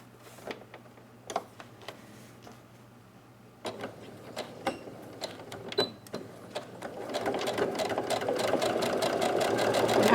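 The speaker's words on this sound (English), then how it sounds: "As you're sewing, you just want to make sure that the edges stay lined up." A home sewing machine stitches the seam of a fabric face mask in short separate bursts, each whirring run of needle strokes close to the microphone, before settling into a longer, steadier run that grows louder toward the end.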